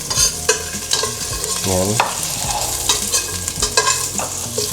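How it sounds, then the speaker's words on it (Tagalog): Garlic sautés in melted butter in a pan, crackling and sizzling up close while a utensil stirs and scrapes through it, with a brief spoken word partway through. "Igisa na natin yung ating garlic."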